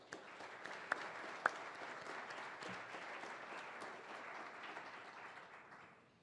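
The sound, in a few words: audience applause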